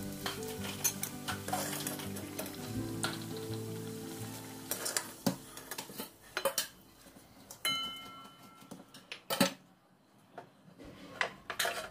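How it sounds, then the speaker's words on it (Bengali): Potatoes fry gently in a pan as a spatula stirs and scrapes against the metal, soft sizzling broken by clinks of utensils and pan knocks, quieter pauses between the stirring bursts. "খুব একটা ভাজছি না, হালকা হালকা একটা লাল লাল ভাব আসবে"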